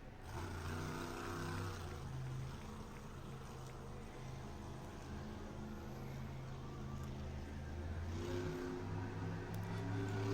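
A monster truck engine at a Monster Jam show in Tampa holds a steady, loud growl with sustained harmonic drone, rising slightly toward the end, with arena noise behind it.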